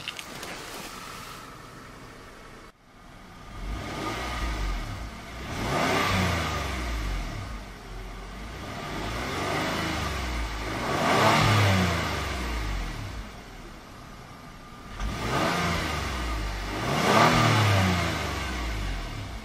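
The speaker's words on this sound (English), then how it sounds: "It's a very smooth V6 with low muscular tone." A 2012 Kia Sorento SX AWD with a V6 engine revs repeatedly, rising and falling in about four strong swells over a steady idle rumble, heard close and loud without talk.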